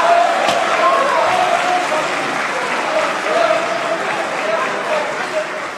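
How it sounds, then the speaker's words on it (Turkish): A group meeting in the Turkish parliament breaks into sustained applause, many hands clapping steadily and densely for several seconds, loud and near throughout. "Biz de bu grubu alkışlıyoruz arkadaşlar."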